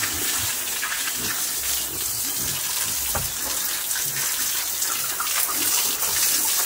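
Water gushes and splashes steadily as pigs are washed in their pen, a continuous close rushing sound with small irregular surges and no clear speech.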